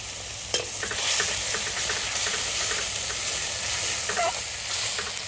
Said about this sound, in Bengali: মশলাটা সুন্দর করে কষাবো